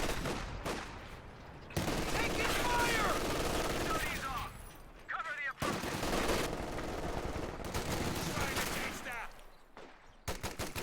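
Sustained bursts of LMG machine gun fire from a video game battle, loud and rapid with brief gaps between volleys, overlapping other gunfire and faint voices.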